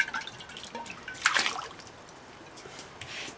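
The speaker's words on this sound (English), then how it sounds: "Just give this jar a wash out" Water drips and trickles while a jar of fenugreek sprouts is rinsed out, a few light splashes and one brief louder rush of water, fairly quiet and close with no talking.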